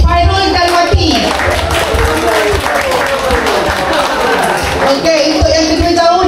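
Steady applause from a group gathered at Tasik Raban, dense clapping mixed with crowd noise and voices, loud and close throughout, with a short lull near the end.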